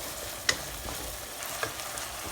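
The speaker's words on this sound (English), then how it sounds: "we are just frying it and cooking it on medium-high flame" Spiced ground meat fries in a pan over a medium-high flame, a steady loud sizzle broken by a few sharp crackles and the scrape of stirring.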